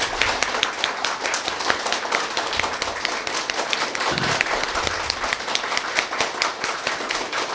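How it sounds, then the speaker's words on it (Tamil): An audience claps continuously, individual hand claps distinct and fairly close, with a brief murmur partway through. "எல்லோரும் ஒரு தடவை ஒரு நிமிடம் விடாமல் கைதட்டுங்க பார்ப்போம்"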